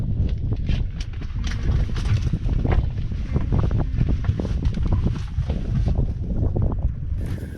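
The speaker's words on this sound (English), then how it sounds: "the wind's blowing" Strong wind buffets the microphone out on a lake from a fishing boat, a continuous low, gusty rumble with irregular thumps and no pauses.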